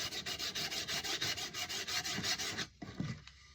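Hickory axe handle being sanded by hand with coarse 60 grit sandpaper, a fast rhythmic series of close rasping strokes that stops abruptly near the end, followed by a few quieter knocks.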